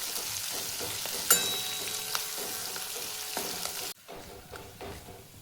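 Garlic-ginger paste, curry leaves and red chili sizzle in hot oil for a Maharashtrian kadhi tempering, a steady loud frying hiss with a sharp crackle burst that drops off abruptly near the end.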